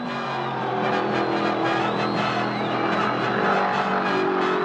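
NASCAR Winston Cup race cars scream down the back straight on the final lap, a loud, continuous high-revving engine roar with shifting whines as the cars pass, filling the whole stretch.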